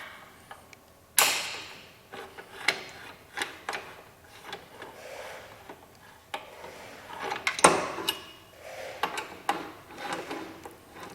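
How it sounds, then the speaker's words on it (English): Stock rear set mounting fasteners come off a 2015–2017 Yamaha R1, with scattered metallic clicks, tool clinks and a couple of sharper knocks from close by, irregular and fairly quiet, with no talking. "We're going to remove our stock mounting fasteners."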